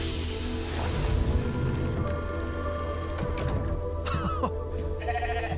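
Cloned sheep in the video game The Alters bleats in-game, a clear bleating call rising over a steady ambient drone of game music and room tone, with electronic interface chirps toward the end.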